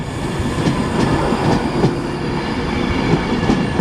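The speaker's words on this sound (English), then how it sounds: "And 390 115 is departing off to Birmingham New Street." A Class 390 electric train departs Watford Junction station for Birmingham New Street, a loud, continuous rolling rumble with faint rhythmic wheel clicks along the rails.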